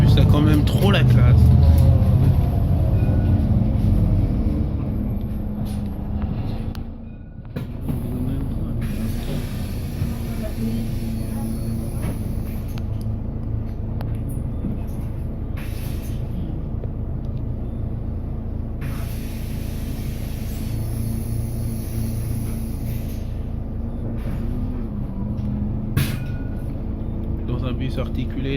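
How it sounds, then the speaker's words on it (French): Iveco Urbanway articulated bus in motion, a steady low engine rumble and road noise from on board, with an air-brake hiss near the start and a voice talking over the drone. "Iveco Urbanway, bus articulé, toujours présent"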